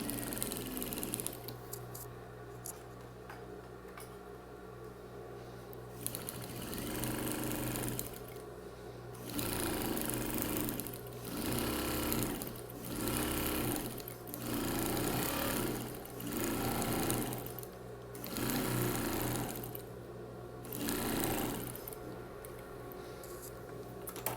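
A sewing machine stitching percale and blue Oxford fabric for a bathroom set runs in several bursts of steady mechanical whirring, separated by short pauses, close and fairly loud with no talking.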